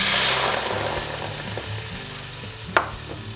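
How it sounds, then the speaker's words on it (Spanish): An orange juice and cornstarch mixture, for an orange sauce, sizzles in a hot frying pan with a loud broad hiss that slowly fades, broken near the end by one sharp clatter. "Vertemos el mejunje en la sartén."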